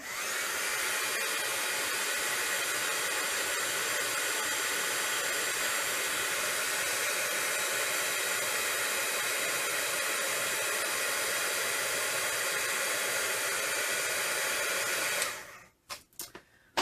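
An embossing heat gun blows a steady, loud whooshing hiss of air close to the mic for about fifteen seconds, then clicks off into quiet.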